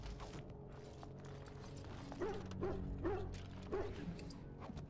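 A caged dog barks in the Dragon Age Origins video game, several faint, separate yips and barks coming at uneven intervals over a quiet, low game background hum.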